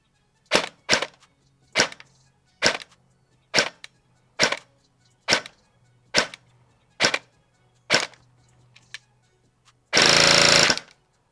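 Sig Sauer Pro Force MCX Virtus PDW AEG airsoft rifle on an 11.1 LiPo battery firing 0.20 gram BBs: about ten sharp, evenly spaced single shots, loud and close, then a short dense burst.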